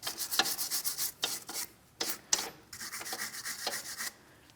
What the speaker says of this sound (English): For this, I'm just using a wire brush. I'm attempting to clean the threads on each one of my bolts.